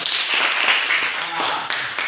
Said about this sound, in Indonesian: Ya, mantap, tepuk tangan.